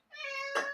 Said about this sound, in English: What is it, kitty cat?